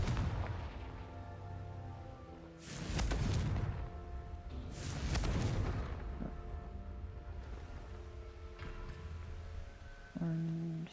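Confringo spell explosions in a video game: two heavy, booming blasts a few seconds apart over a steady game soundtrack, followed by quieter rumbling and a brief tone at the end.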